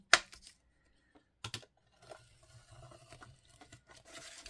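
A fabric book spine cut off on a glass mat makes a sharp initial tap followed by faint, irregular scraping and crunching cuts, close and quiet.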